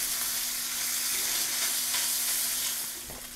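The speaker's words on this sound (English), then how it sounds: "I'm going to let this bologna cook until it has a nice sear on one side" Bologna slices fry in a hot pan, a loud, dense, steady sizzle close up that holds level for a few seconds before easing slightly at the end.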